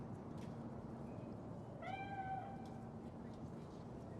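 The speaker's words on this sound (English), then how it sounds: "Chill. It's just a cat." A cat in Cyberpunk 2077 gives one short, clear meow at moderate distance over a steady ambient hum.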